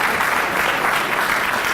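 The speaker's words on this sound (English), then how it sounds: "a round of applause for the band" Steady, dense audience applause for a military band at a USARCENT service celebration ceremony, loud and continuous throughout the short stretch.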